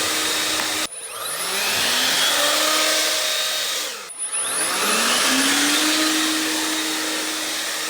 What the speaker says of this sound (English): take a little vacuum cleaner and go shooting around here and pick all that up